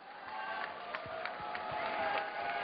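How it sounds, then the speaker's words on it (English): Faint crowd at a UCMMA 20 mixed martial arts event, scattered clapping and cheers rising in a steady distant wash, heard alone without talk. "Let's give a round of applause for that."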